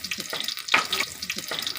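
Dried red chillies and chopped shallots frying in hot oil in a pan, giving a steady close sizzle broken by a few soft stirring scrapes.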